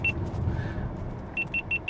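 A Toyota bZ4X's driver-monitoring alert gives a short beep, then four evenly spaced high beeps over a low cabin rumble.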